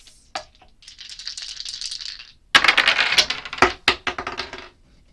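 Tarot dice rattle and tumble, shaken first in a soft continuous clatter, then tossed in a loud burst of clicking impacts that scatter and settle into a few sharp taps, close by with no speech.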